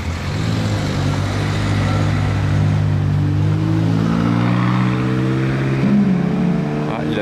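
A Mercedes C63 coupé engine runs with a deep, steady, loud rumble close by, its tone shifting briefly near the end, with faint voices in the background.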